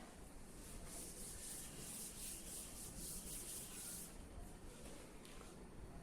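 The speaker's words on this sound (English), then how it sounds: "I will rub out the top part." A rubber eraser scrubs pencil writing off paper in quick back-and-forth strokes, a soft, close, rhythmic rubbing and hiss for about four seconds before it trails off, with no speech.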